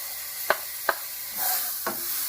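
Green onion and celery hitting a brown roux for crawfish étouffée, with a soft sizzle underneath and three or four sharp spoon scrapes and clacks against the pot, close and fairly quiet.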